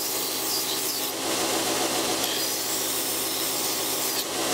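A grinder takes scale off a forged ball bearing matrix Damascus steel knife blade, making a continuous loud abrasive rasp that swells and eases slightly as the blade moves across it.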